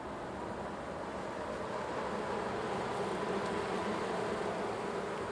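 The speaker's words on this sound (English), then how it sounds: "You can see the drone buzzing around right there." A honeybee drone buzzes around an open hive during an inspection, a steady, dense droning hum from many bees that continues without a break, close and fairly loud.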